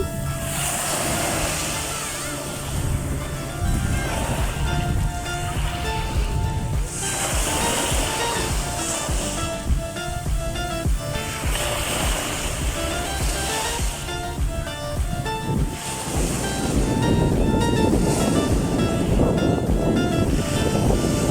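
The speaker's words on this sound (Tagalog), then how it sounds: "magandang pakinggan ng alon." Waves roll onto Roda Beach in Dubai in a continuous wash of surf with periodic swells and some wind rumble. Music plays faintly in the background.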